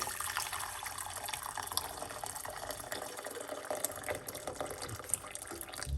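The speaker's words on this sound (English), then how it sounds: "I am going to start the process with 1 large cup of water" Water pours steadily into a pot, a continuous splashing and trickling close by, with no talking; one large cup of water for a cloves recipe.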